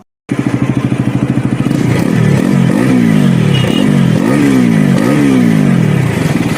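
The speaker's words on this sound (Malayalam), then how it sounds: "വണ്ടിയുടെ ശബ്ദം ഒന്ന് കേൾക്കാം" A Bajaj Pulsar NS400Z motorcycle engine starts with rapid idle pulses, then revs up and down in repeated rising and falling sweeps, loud and close with no talking.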